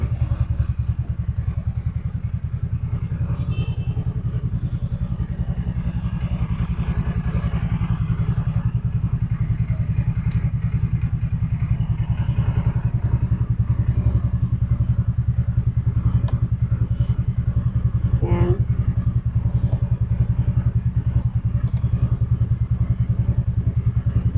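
A second-hand Rapid 150 scooter engine idles steadily and close by, a continuous low, chugging mechanical drone with faint background noises over it.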